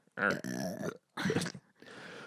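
A man lets out a loud, drawn-out burp, then a second shorter one and a trailing grunt, close and clear with no other sound.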